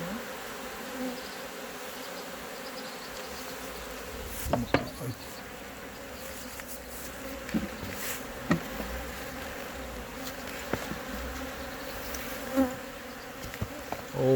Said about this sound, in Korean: 벌들 엄청 달려든다. 빨리 해야 되겠다.